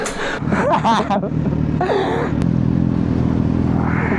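A Kawasaki Z900 motorcycle with a passenger on board pulls away as the clutch is released, its engine rumbling steadily and close while people talk and exclaim over the start.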